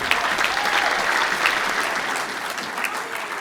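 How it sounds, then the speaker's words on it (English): A room of attendees at a national newspaper awards ceremony breaks into steady, loud applause for a copy editor, sustained evenly throughout. "Please give him a round of applause, too."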